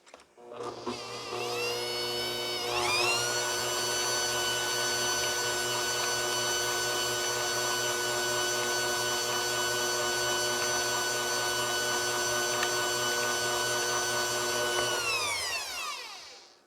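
Steady whine of an electric mixer beating butter, sugar and egg into cookie dough for sliced almond cookies, starting up with a rising pitch, holding at a constant speed, then spinning down at the end.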